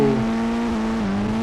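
Car driving off in the Indian Bike Driving 3D video game, a loud, close engine hum with a steady tone that wavers slightly as it pulls away, lasting about a second and a half.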